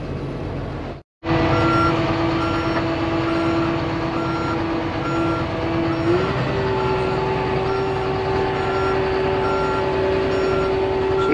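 Heavy equipment at a large auction yard sounds its reversing alarm, loud steady beeps repeating at an even pace over a diesel engine idle, with a brief dropout near the start and no talking.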